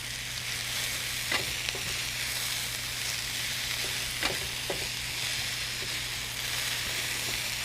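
Bok choy stir-frying in a hot pan, a steady loud sizzle with a few sharp clicks and scrapes of a utensil against the pan spaced across the stretch, no voices.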